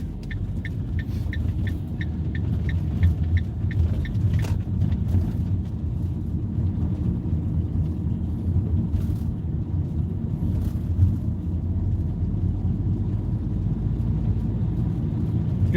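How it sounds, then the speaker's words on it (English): Electric buses roll past in the street, a low steady droning hum with rising and fading swells of motor noise, heard from the roadside amid outdoor rumble and a faint repeating beep. "Man, those electric buses sound weird."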